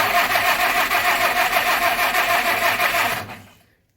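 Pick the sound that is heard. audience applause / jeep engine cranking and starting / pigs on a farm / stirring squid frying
jeep engine cranking and starting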